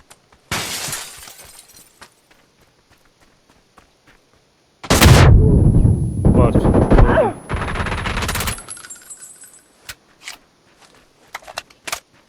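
A grenade explodes and guns fire in the PUBG video game on PS5: a sharp burst early on, then a long, loud roar of blast and rapid shots lasting several seconds, trailed by scattered single gunshots, with no talking.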